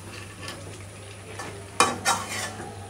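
Beef with five or six small garlic cloves being stir-fried in a covered pot, quiet sizzling at first, then a couple of loud scraping strokes of a spoon against the metal near the end.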